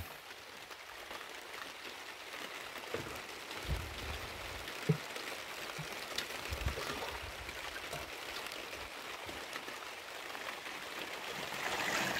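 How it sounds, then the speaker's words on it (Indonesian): Steady rain falls in a mountain village high on the slopes of Gunung Slamet, a soft continuous hiss with a few louder drips and splashes close by, no voices. "Udah hujan."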